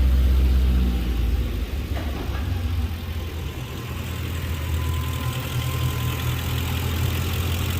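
A car engine idles steadily during an oil change with an engine flush treatment, a continuous low rumble holding even and close with no talking.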